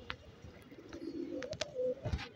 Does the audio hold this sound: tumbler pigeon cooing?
yes